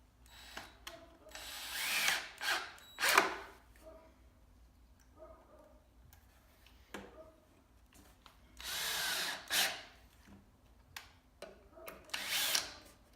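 Power drill driving 1 to 1 1/4 inch screws into plywood: several short whirring bursts that bog down as each screw seats, separated by quiet pauses, close and fairly loud.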